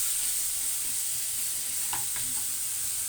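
Tomatoes, onions and other vegetables sizzle steadily in a pan, a constant bright frying hiss with a couple of soft stirring scrapes near the end.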